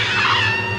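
A cat lets out a short, loud, strained screech in a 1990s B-movie horror trailer, a single wavering cry lasting under a second.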